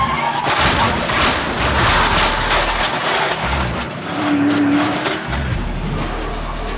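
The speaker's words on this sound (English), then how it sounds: "Hartsook's truck gets knocked onto its side, skids 50 feet, then falls dead on its wheels." A truck is knocked onto its side in a collision and skids about 50 feet before dropping back onto its wheels, heard as a loud sustained scraping roar with crashing bursts and a deep rumbling engine throughout.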